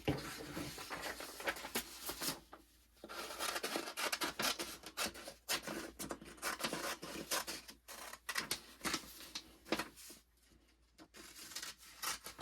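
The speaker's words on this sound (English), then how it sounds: "we must cut the stocking out." Scissors snip and crunch through fabric while cutting out a homemade Christmas stocking, giving a quiet, close, irregular series of cuts with soft rustling between them.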